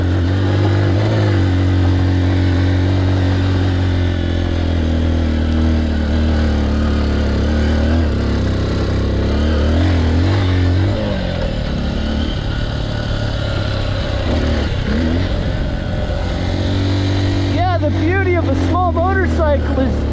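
A Honda XR150L motorcycle rides off-road in first gear on loose, technical gravel terrain, its engine droning steadily and close throughout, with speech heard over it near the end.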